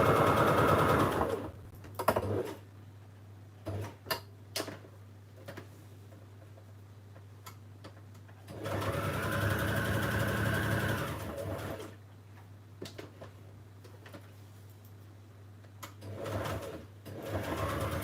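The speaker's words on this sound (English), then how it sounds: "I'll be done sewing in a minute." A sewing machine runs in two short bursts, one early and a longer one midway, amid clicks and handling noises under a steady low hum.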